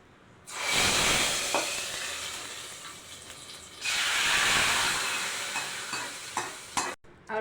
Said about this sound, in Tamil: தாளிக்கிறதுக்கு கடுகு போட்டுக்கலாம், காஞ்ச மிளகா போட்டுக்கலாம், அப்படியே கருவேப்பிலை போட்டுக்கலாம்